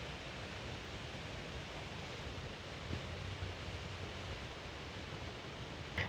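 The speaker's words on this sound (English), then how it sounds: "So there's wind right now" Steady wind blowing across a microphone outdoors beside Cayuga Creek at Como Lake Park, a continuous broadband rush with slight gusting swells, heard alone.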